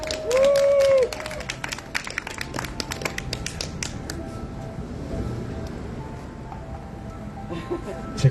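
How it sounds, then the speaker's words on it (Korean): An audience at a candlelight rally gives a short round of applause to welcome a speaker, the clapping fading under ongoing talk. "큰 박수로 모시겠습니다."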